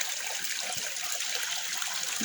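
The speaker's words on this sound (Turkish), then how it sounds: "İşte böyle çeşmede yıkıyoruz arkadaşlar" Fountain water runs while tripe is washed at a village fountain, a soft, steady, faint rush of splashing water with small irregular knocks and no talking.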